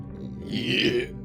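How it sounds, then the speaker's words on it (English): One short, close burp rises and fades within about a second, alone without talk. "I burp."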